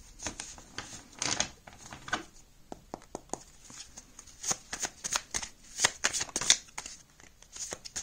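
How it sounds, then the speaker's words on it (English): Rapid riffling and flapping of a card deck being shuffled, in repeated quick bursts of crisp papery clicks over several seconds, close up, with no talking. "I feel like using this deck, so let me just shuffle"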